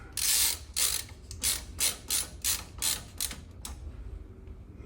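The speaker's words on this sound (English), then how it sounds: "put the final screws in" Rapid ratcheting clicks from a screwdriver driving the final screws into a Minisforum BD790iX3D gaming PC build, heard as about eight short, evenly spaced bursts, close and clear, with no talking.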